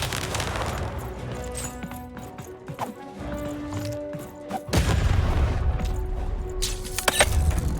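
Cannon blasts in the video game Lost in Random, heavy booms with crashing impacts and a clattering, rumbling battle din that swells sharply midway and stays loud.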